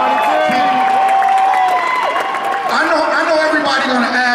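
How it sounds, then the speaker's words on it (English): Crowd noise at the 2015 Mayweather and Pacquiao grand arrival event in Las Vegas, a dense steady roar of cheering and applause with whoops that continues unbroken, while an amplified voice talks over it. "Give Mayweather one more round of applause"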